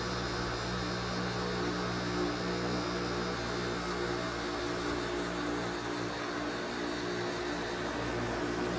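An electric hair clipper with no guard buzzes steadily and closely for the whole stretch while cutting hair low on the head for a clean razor-finished fade. The hum stays even with no talking.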